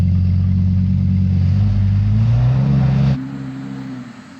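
An Audi R8 with automatic gearbox and stability control on revs steadily on a snowy slope, trying to creep uphill; a loud, close mid-pitched engine drone climbs briefly in pitch, then drops away suddenly near the end, with no talking.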